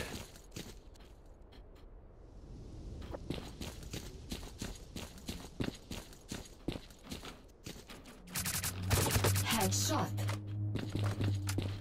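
Footsteps of a sneaking player in S.T.A.L.K.E.R.: Clear Sky online match, a run of soft irregular steps through the first eight seconds, then swamped by a loud sustained drone and clatter; voices talk over it.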